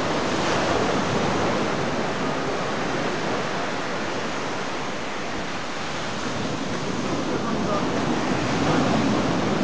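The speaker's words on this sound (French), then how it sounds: "Ça c'est la mer." Sea waves breaking on the shore make a loud, continuous surf roar that stays dense and even throughout, with no voices over it.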